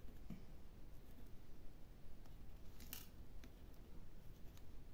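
Scissors snipping paper for a junk journal, a few faint, sparse cuts over a quiet, steady background hiss with no talking.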